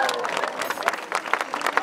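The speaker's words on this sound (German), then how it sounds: "Jubel für Hanna!" An audience at a children's magic show cheering and clapping, a short burst of scattered applause and excited voices with a presenter talking over it.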